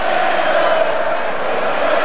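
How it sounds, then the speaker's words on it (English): Football supporters cheering for their side in a stadium at a 1992 FA Vase final, a broad continuous roar of crowd voices heard from a distance, loud and unbroken with no clear single voice. "The Wimborne fans start to cheer their side."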